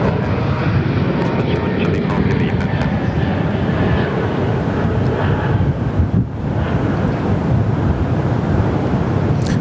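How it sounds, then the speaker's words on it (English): An Airlink ATR turboprop at Perth Airport makes a loud, steady roar with heavy wind buffeting the microphone throughout, and a brief dip near the end. "there's a little cheeky little ATR, one of the little Airlink ones"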